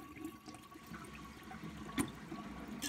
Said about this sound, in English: so let's give it a flush with that much water.